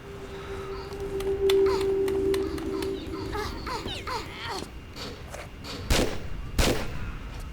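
Turret gunfire in the video game Tomb Raider 4 Remastered: a couple of sharp, loud shots late on, over a hum of game ambience and whirring effects.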